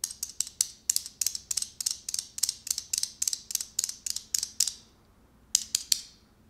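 Hayabusa arcade buttons pressed in a quick, steady run of about twenty crisp, light plastic clicks, close and clear, then a short pause and three more clicks.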